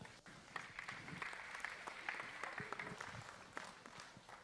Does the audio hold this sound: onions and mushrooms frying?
no